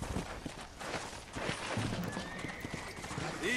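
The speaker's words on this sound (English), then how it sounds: "Sorry, War Horse. I have a new love. And it's this horse" In the Western video game Red Dead Redemption, a horse whinnies and its hooves clip-clop along at a walk, fairly close and clear, with no talk over it.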